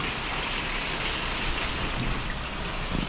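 Heavy rain falls harder in a thick, continuous hiss, near and loud, with a few sharper splashes and drops standing out toward the end and no talking.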